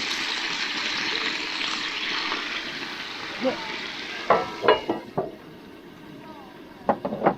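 Steady sizzling of chicken frying in a pan on a camp stove fades somewhat as scattered clinks and scrapes of utensils break through near the end.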